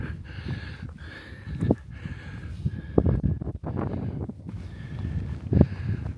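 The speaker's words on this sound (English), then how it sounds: "here it's a bit windy" Wind gusts buffet the microphone on a hiking trail by Ersfjord near Tromsø in Northern Norway, rumbling low and uneven with intermittent thumps and rustling, loud and close throughout.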